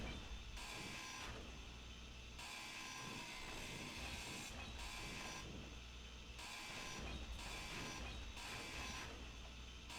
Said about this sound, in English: I may as well grind down these scraps.